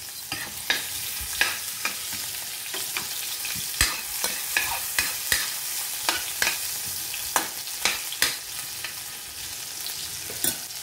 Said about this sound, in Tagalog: ihuhulog muna natin ang sibuyas. Kasi ang sibuyas matagal mag-brown.